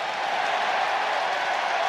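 Rugby stadium crowd at a 2007 World Cup pool match between Ireland and Namibia cheering and applauding, a dense, steady roar of clapping and shouting that fills the whole stretch at a distance.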